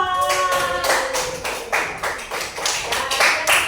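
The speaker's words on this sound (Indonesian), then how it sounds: "Tepuk tangan buat kelompok 2." A classroom group claps for group 2 in a run of brisk, uneven taps and slaps, with several louder bursts and no talking over it.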